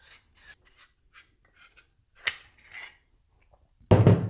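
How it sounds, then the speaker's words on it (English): An auto barrel is unscrewed counterclockwise with an Allen key before its glide rings are changed. Faint, intermittent metallic scraping and rasping ticks build to one loud, close grinding rasp at the end, with no talking. "You unscrew the auto barrel counterclockwise."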